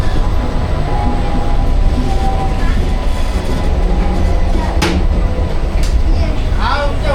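Inside a moving MEMU train compartment near Wadi junction, a loud constant rumble of wheels and carriage noise with a few brief sharp clanks.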